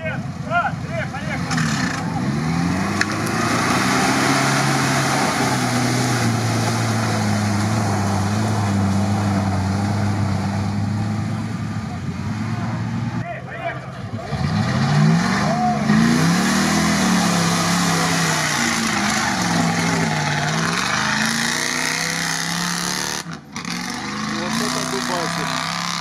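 American V8 engines in off-road racing vehicles roar steadily, revving and shifting pitch through long pulls, loud and continuous, with the note dipping briefly midway before climbing again.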